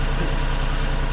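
John Deere 5105 tractor engine idling near a baler, a steady low diesel rumble with an even, unbroken drone, close and moderately loud with no voices.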